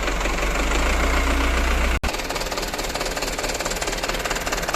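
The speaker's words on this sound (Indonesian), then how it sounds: "Kemudian kita nyalakan mesinnya dan tunggu hingga beberapa saat." A Mitsubishi FUSO Canter truck diesel engine runs at a steady, loud idle, with a brief cut in the sound before the rumbling chug continues.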